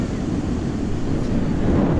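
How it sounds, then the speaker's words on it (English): Strong wind buffets the microphone on Jacksonville Beach, a loud continuous low roar with no break across the short stretch. "It's a little windy out today."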